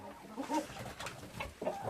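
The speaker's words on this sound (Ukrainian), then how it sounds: "Ось мої ще бачите кури такі" Several chickens cluck softly nearby in short, irregular bursts, with a low background murmur.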